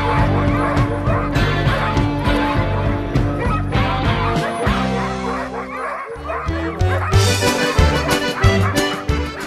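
A pack of sled dogs waits before setting off, barking, yipping and whimpering in an excited, overlapping chorus that is loud and close. A brief lull comes midway, then the barking rises again.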